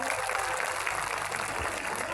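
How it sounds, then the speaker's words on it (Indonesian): Applause from a large outdoor crowd at a religious gathering in a field in Madiun, a steady dense patter of clapping throughout, with a voice faintly underneath. "Tepuk tangan untuk beliaunya."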